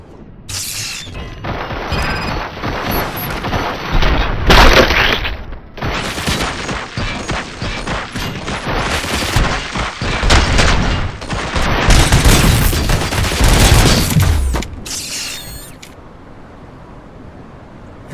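Gunfire and explosions in the Robocop Rogue City video game, heavy, continuous volleys of shots with booming impacts, loud and close, easing off toward the end.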